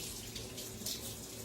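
A hand being rinsed under a running kitchen tap gives a short, steady hiss of flowing water, close and fairly quiet, with no talk.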